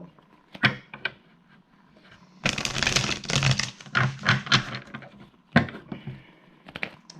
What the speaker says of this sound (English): Let me shuffle.